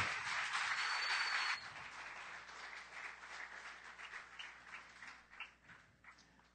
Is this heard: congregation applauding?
yes